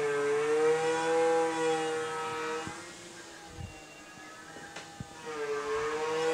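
A Tormach 440 CNC mill spins at 10,000 RPM, cutting with a loud, sustained whining tone that wavers and drops away midway, leaving softer machine noise and a few clicks, then returns.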